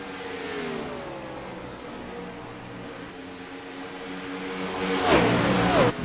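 ICAR Cup race cars run laps at Atlanta Motor Speedway, a steady roar of several engines droning together with rising and falling pitch, growing louder near the end as cars pass close by.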